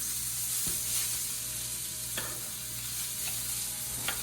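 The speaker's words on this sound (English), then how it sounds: "places the sausages one by one as they begin to sizzle" Steady sizzling of sausages frying in a pan, with a few sharp taps and scrapes of a utensil against the pan.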